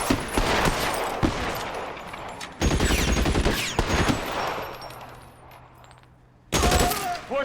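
Rapid gunfire bursts in the LA Noire VR video game, loud and dense in two long volleys with a short pause between, then a final sharp burst; faint voices may sit beneath the shots.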